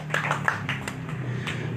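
Scattered hand claps from a church congregation during preaching sound over a steady low hum, irregular and fairly soft rather than a full burst of applause.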